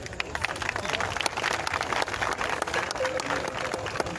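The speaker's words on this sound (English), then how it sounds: "Won't you clap for them?" An audience applauds at an Asante Kotoko players and kit unveiling event, with steady scattered clapping from a crowd throughout and some murmuring voices underneath.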